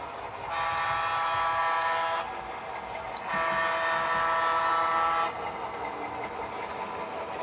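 A Wabash freight train with KCS and Electromotive GM lease units rumbles past at steady volume, with two long sustained horn blasts sounding over the rolling rail noise.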